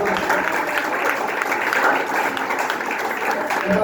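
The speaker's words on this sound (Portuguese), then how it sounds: "Palmas do Senhor Jesus." A church congregation claps steadily throughout, a dense, continuous applause with no pauses.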